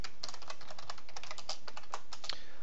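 Rapid typing on a computer keyboard: a dense run of crisp key clicks with uneven rhythm, close up and steady, no voices.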